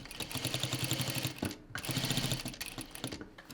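A sewing machine stitching a cloth shopping bag runs in fast rhythmic bursts, stopping briefly for the fabric to be turned at a corner before stitching on again, close and steady.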